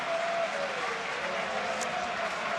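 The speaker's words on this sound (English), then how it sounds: "Mars Lewis Kelly gets a huge cheer from the Arsenal faithful as he comes on" A stadium crowd at an Arsenal versus Burnley Premier League match cheers and applauds as substitute Lewis-Skelly comes on, a steady broad roar with no clear peaks, heard from a distance.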